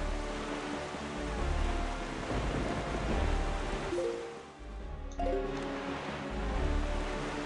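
Steady rain with low rumbling thunder in The Legend of Zelda: The Wind Waker, a continuous broadband wash that swells and dips, with deeper thunder rolls in places and no voices.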